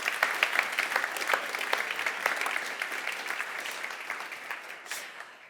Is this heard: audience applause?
yes